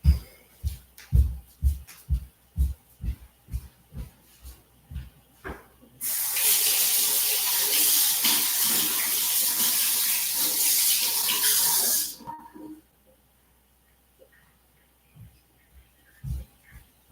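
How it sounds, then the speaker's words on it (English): A kitchen tap runs steadily for about six seconds while hands are rinsed under it, a broad, close hiss framed by brief knocks and handling sounds before and after. "Let me rinse my hands real quick."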